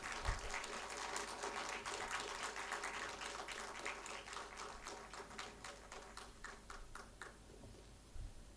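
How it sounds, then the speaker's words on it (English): Faint, somewhat distant audience applause at a magazine launch event, steady clapping over a noisy background that gradually thins out toward the end. "A warm round of applause, please."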